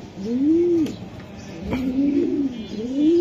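Club pigeon cooing nearby, a series of low rising and falling coos in a slow rhythm, with faint clicks and background murmur.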